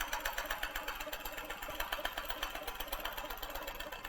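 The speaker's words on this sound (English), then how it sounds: "The faster I move the machine, the longer my stitches become." Q'nique 15R longarm sewing machine running and stitching, a steady fast mechanical rattle and whir with a regular pulsing rhythm, close and alone.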